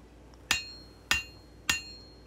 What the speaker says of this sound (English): You'll see how that blade straightens out as I hammer the bevels in.